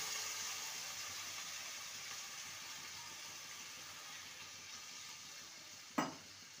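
Spiced okra and potatoes cooking in a pan give a steady, faint sizzle and hiss that slowly fades, with one sharp clink near the end, and no voices.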